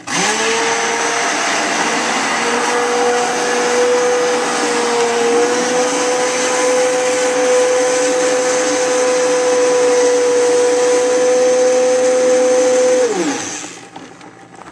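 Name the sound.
stick blender blending liquid soap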